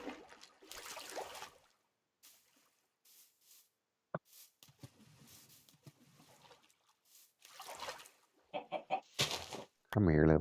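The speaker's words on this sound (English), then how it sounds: "Come here, little chicken." A chicken in the video game Minecraft gives short, scattered clucks and squawks, separated by quiet gaps and mixed with other brief game noises, ending in a louder burst.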